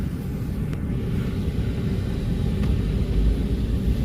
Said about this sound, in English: This one I can actually drive around the yard a little bit